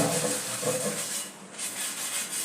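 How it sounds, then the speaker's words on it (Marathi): A wire scrubber scours the surface of a new cast iron griddle with continuous, fairly faint rasping and rubbing strokes that run throughout. "तारेचा काथा घ्यायचा आहे आणि हे स्वच्छ घासून घ्यायचं"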